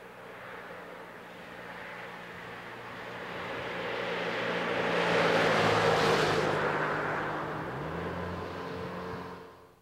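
A 1998 Peugeot 306 Break, front-wheel drive, carrying 200 kg of dummy weights in the cargo area and climbing uphill, with a steady engine and road drone that swells to a peak in the middle and then eases off.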